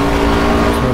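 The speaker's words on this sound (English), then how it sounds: "Hitting the rev limiter" A race car engine in Project Cars bouncing off its rev limiter, a loud, sustained high-revving buzz lasting under a second with no pause.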